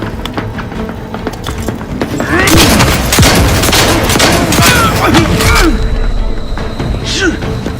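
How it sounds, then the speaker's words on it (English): A grenade blast in the game Outer Worlds 2 sets off a loud, sustained burst of explosive booms and crackling gunfire lasting several seconds over steady background noise. "Explosion imminent! Taking cover!"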